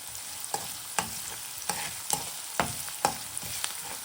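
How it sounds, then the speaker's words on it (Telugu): Pasta water with pink salt stirred in a pot on the stove, a spoon scraping and clinking in regular strokes about every half second, close and fairly loud with a faint bubbling beneath. "పింక్ సాల్ట్ వేసుకున్నాం మళ్ళీ ఒకసారి కలపండి"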